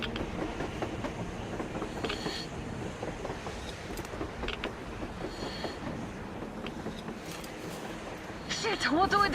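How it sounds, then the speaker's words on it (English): Train on rails in the video game Metro Exodus, a continuous rolling clatter with scattered clicks, swelling louder in the final moments, with muffled voices mixed in. "A train! A damn train on the surface!"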